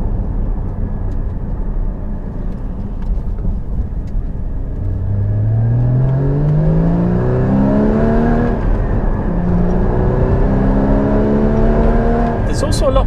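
Porsche Cayman 981 GT4 with manual gearbox driving on the road, a steady loud cabin drone of engine, drivetrain and running gear with rising whining tones as it accelerates, continuous throughout.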